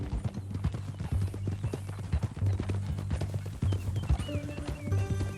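A horse's hooves clip-clop steadily and fairly close in Red Dead Redemption 2, with a faint whinny and some music or ambience in the background.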